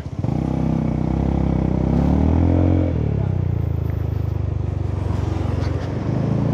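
A Honda Forza 300 scooter being ridden drones close by with a steady engine tone that rises in pitch, then settles as it cruises on.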